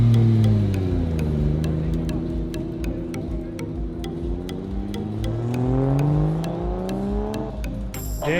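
A Nissan Skyline GT-R RB26 engine revs and drones steadily, pitch sinking then climbing again as it accelerates, loud and close, with a rapid ticking pattern running throughout.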